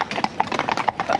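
Horse hooves clip-clop in a quick, even rhythm on a road, close and distinct, ridden in the middle of a group of horses near traffic.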